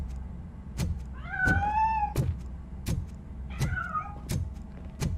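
A cat meowing in the RoboCop video game, two clear rising and falling meows close by, set among sharp recurring clicks and knocks over low background hum.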